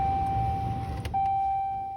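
With the key turned to run on a 6.7L Cummins Ram diesel truck, the fuel pump primes with a steady electric whine and low hum. The whine cuts out briefly and then resumes, quiet and close.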